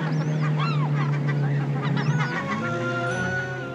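Seabirds along the icy Alaskan coast call with honking, croaking cries over a steady background hum, as if heard from aboard a boat, with several overlapping calls and no speech.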